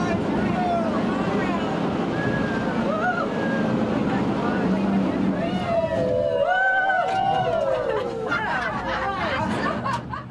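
A riverboat motor rumbles on the Fraser River with splashing and wind as the boat shows off its manoeuvres, while people chatter and laugh nearby.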